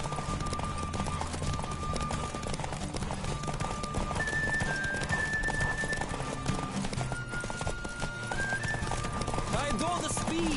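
Galloping horse in The Witcher 3 during a race, fast regular hoof clatter running beneath game music and ambient sound, with a brief whinny-like sound near the end.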